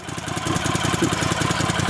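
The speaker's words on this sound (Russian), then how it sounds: "Завели мотор." A small rail trolley engine idles steadily with a rapid, rattling knock on a narrow-gauge peat railway, running close by and constant for the whole stretch.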